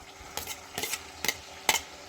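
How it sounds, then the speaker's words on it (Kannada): Chopped onions fry in hot oil for a paper chicken gravy, with four distinct scraping strokes of a spatula against the pan over a faint, low sizzle. "ನಾನಿಲ್ಲಿ ಈರುಳ್ಳಿ ಕಟ್ ಮಾಡಿ ಇಟ್ಕೊಂಡಿದ್ನಲ್ಲ, ಅದನ್ನು ಎಣ್ಣೆಗೆ ಸೇರಿಸ್ಕೊಂಡು ಚೆನ್ನಾಗಿ ಫ್ರೈ ಮಾಡ್ಕೊಳ್ಳೋಣ."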